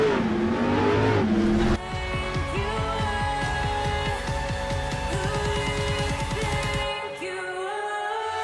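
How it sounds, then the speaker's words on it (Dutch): A red BMW Z4 M40i drives past, its engine note rising and falling over about five seconds with a quick gear-change surge, close and loud before fading away. "Er komt een BMW Z4 M40i voorbij."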